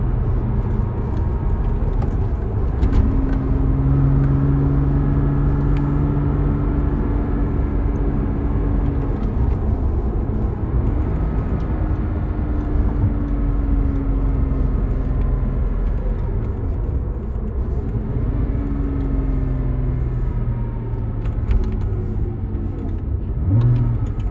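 A Porsche Cayman S accelerates hard from a launch, its engine note climbing steadily through repeated rising pulls with brief dips at the gear changes, loud and close over a constant road rumble.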